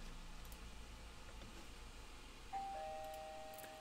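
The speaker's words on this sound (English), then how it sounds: "And doorbell ringing" A doorbell rings indoors partway through, a faint electronic chime rising out of a steady background hum and hiss; no one speaks.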